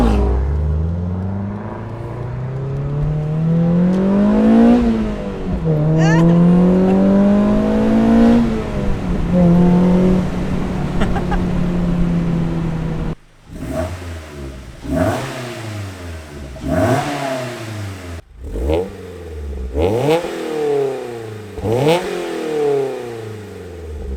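A Mazda Miata NC fitted with a SuperQ exhaust revs up and pulls through several gears, the engine note climbing and dropping in repeated sweeps before sharper, punchier blips and shifts follow, loud and close with no talking.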